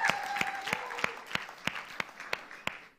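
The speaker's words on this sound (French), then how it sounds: "Vous pouvez vous applaudir" An audience at a youth event applauds itself, with a few people clapping in a slow, fairly regular rhythm of distinct claps that fade out, while a voice talks over the start.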